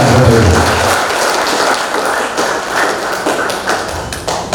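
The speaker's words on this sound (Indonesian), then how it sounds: "tepuk tangan yang semangat sekali untuk kita semuanya" Enthusiastic applause from a leadership seminar audience, dense and loud clapping sustained throughout with a faint voice early on.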